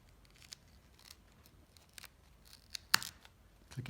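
Metal plates of a barebow archery tab being pressed together, mostly quiet fiddling with faint taps, then one sharp, close metallic click near the end and a softer knock after.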